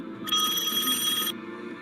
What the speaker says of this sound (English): Oh, someone calling. Who is it? Who's there? Someone answer the phone.